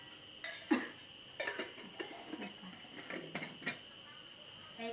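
A patient gives several short coughs during an effective cough procedure, faint and close in a quiet room, with light rustling between them.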